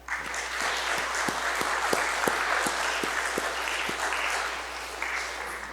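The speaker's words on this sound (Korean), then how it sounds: "모든 가정들을 다시 한번 뜨거운 박수로 격려해 드립시다." A congregation at a university family-invitation worship service claps in a steady, sustained round of applause, with a rhythmic beat of low thumps running under the clapping.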